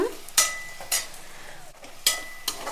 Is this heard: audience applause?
no